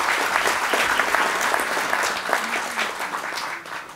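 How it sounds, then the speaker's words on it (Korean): An audience at an award and scholarship ceremony claps steadily, a full, close wash of applause that holds for several seconds before tapering slightly at the end. "여러분 다시 한번 큰 박수를 부탁드리겠습니다."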